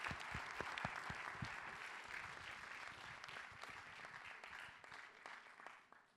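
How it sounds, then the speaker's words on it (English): An audience at a live interview event in Dubai bursts into steady, dense applause with a few louder claps and some murmuring, holding for several seconds before tapering off at the end. "Deserve a round of applause."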